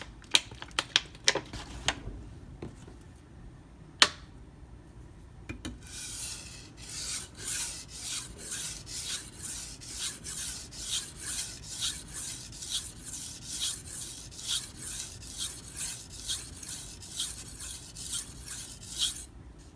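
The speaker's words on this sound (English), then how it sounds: "I'm just going to sharpen the edge. It's 400 grit Naniwa Pro." A Karaku AS gyuto, 210 mm, with iron cladding, is sharpened on a 400 grit Naniwa Pro stone: a few separate scrapes at first, then steady rhythmic rasping strokes, close up, with no talk.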